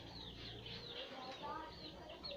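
Minecraft chicken clucking in the game, with short chirpy cluck calls that repeat over steady game background noise, close and moderately loud.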